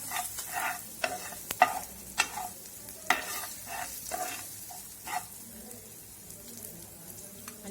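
Potato filling sautéing in a pan, with a soft sizzle under a run of sharp spoon scrapes and taps that come in irregular bursts, close and moderately loud with no voices.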